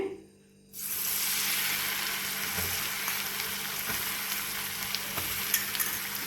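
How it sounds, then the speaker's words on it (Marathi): A paste of coconut, garlic, ginger and coriander hits hot oil in a pan after a brief silence, then sizzles loudly and steadily up close, with occasional stirring scrapes. "त्यानंतर टाकून घेऊया खोबरं लसूण अद्रक आणि कोथिंबिरीची पेस्ट केलेली आहे ती टाकणार आहोत"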